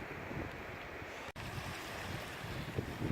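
Sea waves washing steadily onto the shore at Hummersea on the north coast of England, a continuous broadband rush with wind buffeting the microphone, no voices.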